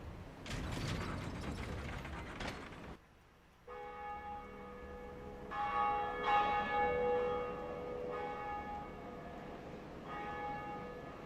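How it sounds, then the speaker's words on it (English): Bell of awakening in Dark Souls Remastered, atop a bell tower, rings out with a clanking mechanism first, then sustained resonant metallic tones swelling and repeating as the bell swings, loud and alone with no talk. "And right here is our first bell of awakening."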